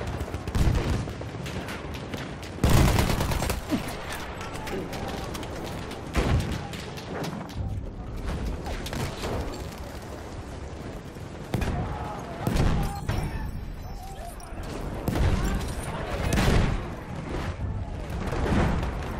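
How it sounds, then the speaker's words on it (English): Enemy machine gun fire and other gunfire in a Battlefield 1 battle on the Achi Baba map, with dense bursts and sharp blasts throughout, loud and chaotic. "There's an enemy machine gun!"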